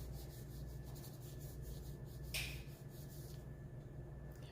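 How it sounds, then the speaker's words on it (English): Pencil shading rubbed into a face drawing on paper, a soft continuous scratchy rubbing that is faint and close, with one brief louder swipe partway through. "Rub that in."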